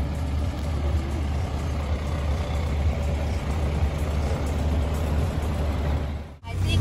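A big car carrying glamping guests runs with a steady low engine drone heard from inside, broad road and cabin noise, and a brief dip near the end.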